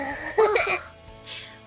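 A single sharp sneeze, voiced by a performer in an audio drama, bursts out once with a breathy, harsh rush, followed by quieter room tone and a faint breathy trailing sound.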